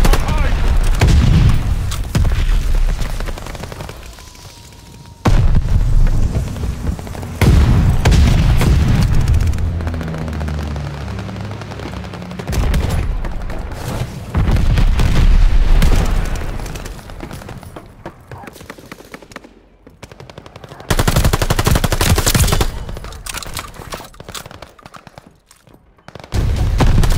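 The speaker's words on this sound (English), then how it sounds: "Friendly mortar fire coming." Friendly mortar fire in the video game Call of Duty: Vanguard, with repeated loud booms and bursts of gunfire coming in heavy waves separated by quieter gaps, and a voice talking in places.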